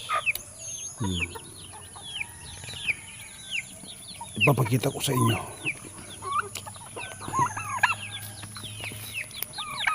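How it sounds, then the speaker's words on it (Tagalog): Chickens cluck and chatter nearby, with a rooster's call and bursts of wing flapping, while a person speaks briefly over the birds. "Meron tayong mga manok dito"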